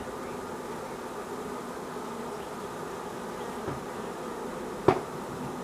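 Honeybee swarm buzzing steadily as it is settled into a hive, a continuous low hum with a faint click near the end.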